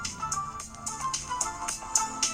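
Music plays through the earpiece speaker of a Motorola Moto phone with no Moto Mod attached, thin and tinny with rhythmic beats at moderate volume, no voices.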